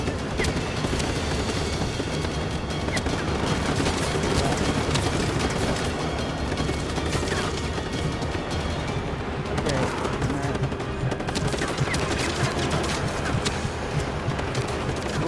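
Rapid gunfire crackles during a chaotic firefight on an oil rig in Just Cause 3, a dense, continuous barrage of shots and bursts with some faint speech mixed in.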